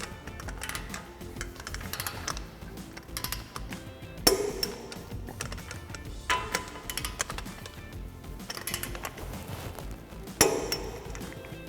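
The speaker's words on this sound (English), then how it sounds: "we are torquing these two caliper bracket bolts, or I'm sorry, caliper bolts to manufacturer specification" Caliper bolts are torqued on a 2005-2022 Toyota Tacoma during a brake rotor and pad job, heard as ratcheting clicks with sharp metallic clinks, including two distinct louder snaps.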